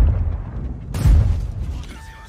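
A deep booming tank cannon blast from a Skoda T-56 in a video game erupts after a moment of low rumble, its heavy thud rolling off into a lingering low roar.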